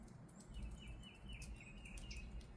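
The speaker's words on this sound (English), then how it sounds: "I wanted to step back out and see if you could hear the bird song." Birds chirp and sing outdoors, several short high calls repeating over a low rumble of background noise.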